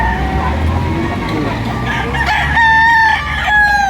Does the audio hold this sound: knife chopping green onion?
no